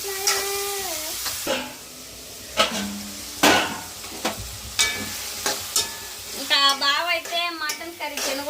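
Vegetables fry in a pan for mutton curry, sizzling while a spoon scrapes and clanks against the metal in irregular strokes, with a voice speaking in between.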